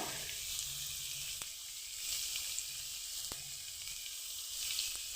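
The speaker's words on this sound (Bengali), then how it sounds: "নুন দিয়ে হালকা করে আমি ভেজে নেব" Capsicum frying with salt in a pan, giving a soft, steady hiss of sizzling with a couple of faint clicks from stirring, quiet and close, no voices.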